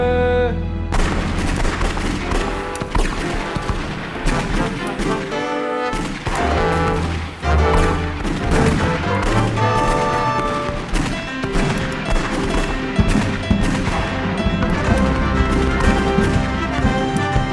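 Gunfire sound effect during a school stage production of Les Misérables, a loud sustained barrage of rapid booming shots and crashes that carries on over the stage sound and filling a large hall.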